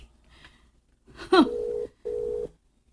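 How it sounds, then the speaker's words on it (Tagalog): A cellphone rings briefly in a quiet room: two steady electronic tone bursts, each about half a second long, preceded by a soft rising chirp, fairly close and clear with no talking over them. "Ako bang cellphone ang mereng?"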